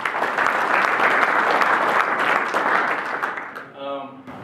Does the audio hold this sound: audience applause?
yes